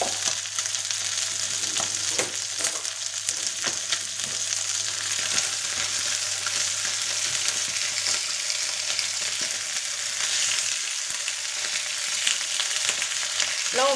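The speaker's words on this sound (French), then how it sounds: "Là, on fait juste revenir un petit peu notre viande." Chorizo and meat sauté in a pan for paella, a steady close sizzle and crackle with occasional scraping stirs and spits throughout, no voices.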